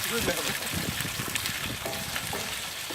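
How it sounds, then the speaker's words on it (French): Paella ingredients sizzle and bubble in a pan, a steady frying hiss with occasional stirring clatter that continues without pause. "Et on laisse mijoter tout doucement"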